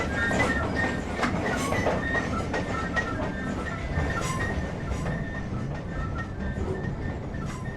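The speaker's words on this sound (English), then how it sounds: "flange sound on the track joints there on the points" Simulated train wheels clatter over track joints and points in the OpenBVE game's North London Line, with a steady rolling rumble, rhythmic clicks and a high flange squeal that carries on throughout, with no talk.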